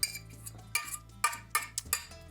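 Butter and garlic stirred in a bowl with a utensil, a few close sharp clinks and scrapes of metal against the bowl in an irregular rhythm, with no talking.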